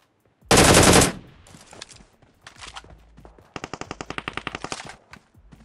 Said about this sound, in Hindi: यहाँ पर मेरे को पीछे से भी गन फायर आ रहा था